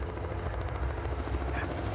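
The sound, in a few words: helicopter flying overhead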